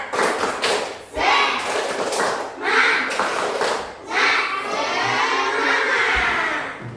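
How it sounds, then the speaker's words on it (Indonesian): Children in a classroom perform a rhythmic spirit clap chant, with bursts of group clapping and chanted voices in several phrases, loud and close, punctuated by thumps. "kita bertepuk semangat dulu ya nak ya. Tepuk semangat."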